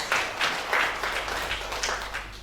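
A church congregation at a Sunday worship service claps in rhythmic bursts, a short run of spread-out applause of moderate loudness.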